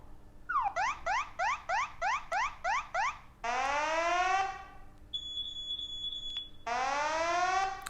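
Alarm beeps from a Sonoff NS Panel Pro smart home panel, played as several tone patterns: a quick run of repeated rising chirps, then a longer sweeping siren, a steady high tone and another sweep, loud and clear with no talking.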